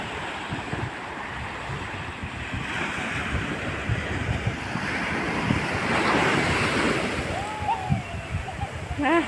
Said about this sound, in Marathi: बघा ना लाटा कशा येत आहेत.